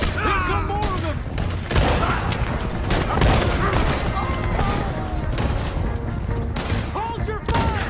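Gunfire in the video game Red Dead Redemption 2: a loud fusillade of repeated shots and booms in irregular bursts, mixed with shouting voices throughout.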